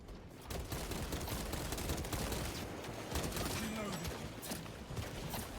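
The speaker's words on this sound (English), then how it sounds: "It's a bolter pistol," A bolter pistol fires in a video game battle, a rattling run of gunfire with mechanical clatter that stays steady throughout, while someone talks over it.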